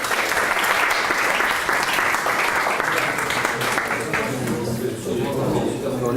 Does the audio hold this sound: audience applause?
yes